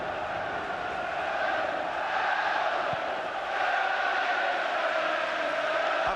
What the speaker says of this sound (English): Just listen to those Leeds fans now.